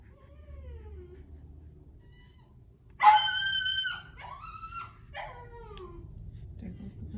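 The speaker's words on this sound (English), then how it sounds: "there goes the puppy" A puppy gives a few short, high yelping barks and whines up close, with a sharp loud first cry followed by softer calls over a low background hum.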